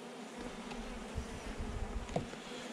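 Buckfast honeybees hum and buzz steadily around an opened hive, a close, continuous drone with a few louder passes of single bees near the microphone, no voices.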